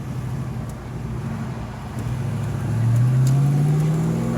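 A 1991 Ford Mustang LX 5.0 with stock gearing pulls away in first gear, its engine droning steadily and rising in pitch as it accelerates, heard from inside the car without talk.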